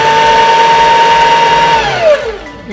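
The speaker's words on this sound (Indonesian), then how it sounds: "Itu tadi suara kita bikin bobin" Jaguar HD3000 portable sewing machine winding a bobbin, a loud, steady motor whine that holds an even pitch and then slides downward as the winding stops, close up with no talking.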